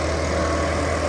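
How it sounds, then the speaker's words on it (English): A gas-powered blower pushes excess driveway sealer across patio stones, a steady loud engine drone with a constant low hum throughout, close by and unbroken. "blower moves the extra sealer around, preventing from settling on top of the stones and further soaking into the sand."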